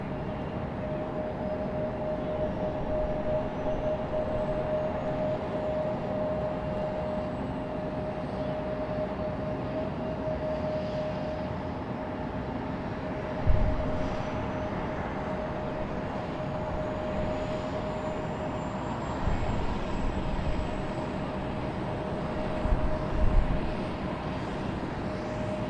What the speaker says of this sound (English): C-17.